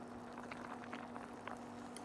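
Bitter melon blanching in a pot of boiling water, a steady bubbling and popping texture with scattered small bursts, continuous and moderately close, with a low steady hum beneath and no talking.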